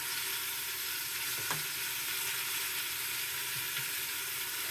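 Beef frying in a pan gives a loud, steady, dense sizzle throughout, close up, with a faint clink of a utensil partway through and no talking.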